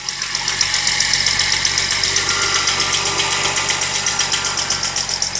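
A cold Jeep engine with HEI ignition idles steadily nearby, a loud rumbling drone with an even, rhythmic knocking pulse throughout, quiet exhaust and no talking.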